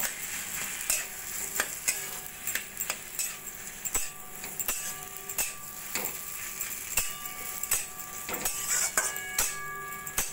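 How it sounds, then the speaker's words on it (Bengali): Four boiled potatoes, broken up and frying with spices in a pan: a steady low sizzle broken by repeated sharp clicks and taps of a spoon against the pan, no voices. "এবার আলুটাকে মশলার সঙ্গে মিশিয়ে একটু ভাজা ভাজা করে নেব।"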